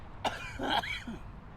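A man gives a few rough, close coughs and a throat-clearing rasp, short bursts spaced within a second or so, in a quiet room.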